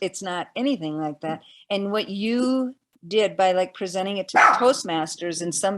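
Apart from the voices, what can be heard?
dogs barking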